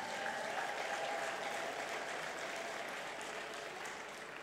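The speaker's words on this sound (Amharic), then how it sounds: "አጨብጭቡ ለጌታ ክብር።" A church congregation clapping for the Lord during a sermon, a dense continuous roar of many hands heard at a distance, steady and even, gradually easing toward the end.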